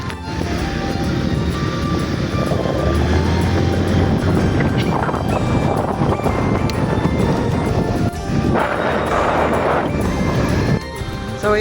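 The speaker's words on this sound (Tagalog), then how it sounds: "So yun, test ride natin to." A Rusi Passion scooter rides along after a belt, oil and gear oil change, its engine droning and road noise rushing continuously, with a brief drop in level before picking up again.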